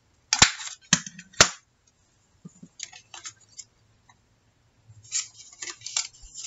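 A corner-rounding punch clips the corners of a paper playing card, giving three sharp, close snaps in quick succession, then a pause, softer rustling and handling of the card, and a few more crisp clicks.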